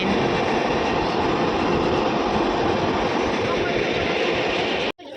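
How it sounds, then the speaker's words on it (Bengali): A train rumbles past close by, seen from a motorbike on the road back from Digha, a loud, steady roar of rolling wheels and carriages that cuts off abruptly near the end. "দেখো কি সুন্দর সামনে ট্রেন"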